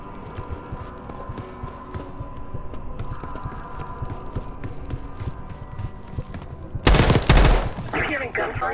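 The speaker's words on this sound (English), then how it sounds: "You hearing gunfire?" Distant gunfire in Call of Duty Black Ops 6 crackles in scattered pops under a low ambient hum, then a sudden loud burst of rapid shots near the end.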